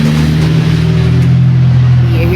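A steady low rumble of vehicle engines from traffic passing on a nearby street, a continuous drone with a brief swell, no clear individual pass-bys.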